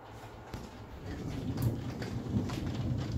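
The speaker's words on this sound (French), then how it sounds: "Voilà le tonnerre." Thunder from a passing thunderstorm rolls in as a low, swelling rumble that builds over a few seconds and stays at a distance, heard alone with no voices.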